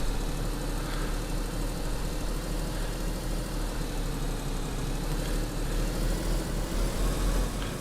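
An OLGA 24 car in DayZ hauls itself uphill, its engine a steady, loud low rumble droning on without a break, with no talking over it.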